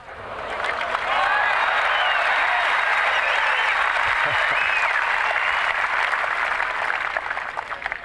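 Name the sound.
tennis crowd applauding a spectator's catch in the stands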